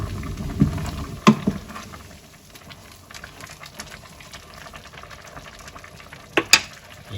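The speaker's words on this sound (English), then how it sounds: "Give it a little stir." Spoon stirring a pot of boiling turkey mince dog food, soft bubbling under a few sharp metallic scrapes and knocks against the pot, close by.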